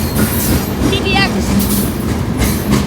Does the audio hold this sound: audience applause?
no